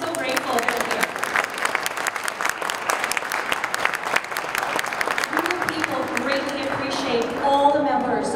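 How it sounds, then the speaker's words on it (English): An event audience applauds steadily, a dense patter of clapping that carries on throughout with a voice talking over it in the latter part. "Let's just give them a round of applause."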